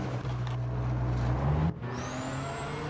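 Engine of a 1998 Subaru Impreza rally car in Gran Turismo 7 drones steadily and loudly, then drops off abruptly partway through before settling into a lower, quieter hum, with no voices.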